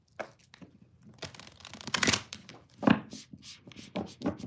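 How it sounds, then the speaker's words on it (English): A deck of tarot cards being shuffled by hand, irregular papery riffles, slaps and crinkles close by, bursts of varying loudness with a stronger snap near the end, no talking. "if I can get these shuffled"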